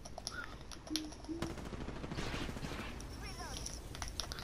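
Apex Legends gunfire rattles at low level behind the scene, a few sharp shot bursts amid a busy background, with a voice speaking faintly.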